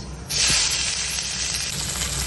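Five-spice and onion hit hot oil for a mustard-oil style mourola fish curry, bursting into a loud, steady sizzle that starts abruptly and holds close and strong without talk.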